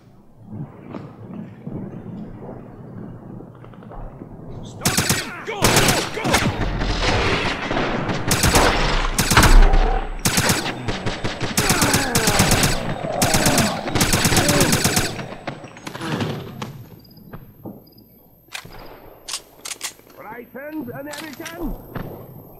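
Heavy bursts of machine-gun and rifle fire in the 2009 Wolfenstein video game, loud close volleys packed together for several seconds and then thinning to scattered shots, with a voice speaking intermittently.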